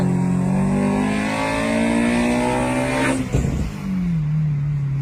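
A K24 Reborn race car revs during track testing, its engine climbing in pitch in rising and falling sweeps, loud and close, with a sharp burst near the middle before the drone drops lower.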